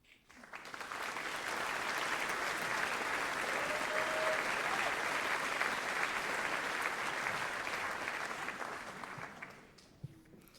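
Steady applause from a lecture audience in Vienna swells quickly, holds as a dense, even wash of clapping for several seconds, then fades out toward the end.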